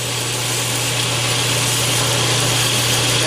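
Loud, steady whine of a power tool grinding a curved radius along a layout line, continuous and close with a constant hum underneath and no pauses or talk.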